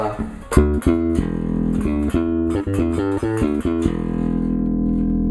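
A Peavey T-40 electric bass plays a run of punchy, sustained notes, fairly loud and close, ending on a held ringing tone.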